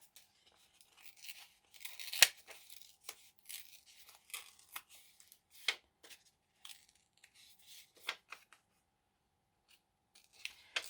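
Cardboard from a candy box is torn into pieces by hand, producing quiet, scattered rips and crinkles in irregular bursts with pauses between them, close and soft.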